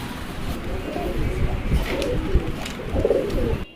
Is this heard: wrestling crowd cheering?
no